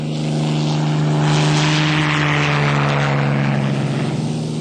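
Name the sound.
Spitfire propeller aircraft flying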